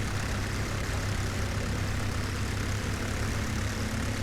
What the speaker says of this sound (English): Aeroplane here.